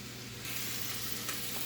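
Sausage sizzles steadily in a frying pan for Italian-style cooking, a continuous close hiss that grows louder partway through, with a brief scrape of stirring near the end.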